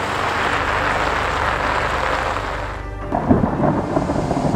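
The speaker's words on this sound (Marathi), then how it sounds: "सिल्लोड तालुक्यातील चारनेर गावातही ढगफुटी सदृश पाऊस झालाय" Cloudburst-like heavy rain in Charner village, Sillod taluka, pours as a dense roar before a deep, loud rumble of thunder breaks in and carries on under the downpour.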